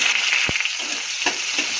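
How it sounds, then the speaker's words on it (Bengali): Green chillies and onion going into hot oil left from frying potatoes, a loud close hissing sizzle with two or three soft thumps as pieces drop in. "ওই তেলের মধ্যেই আমি কাঁচা লঙ্কা ছেড়ে দেব, পেঁয়াজ ছেড়ে দেবো,"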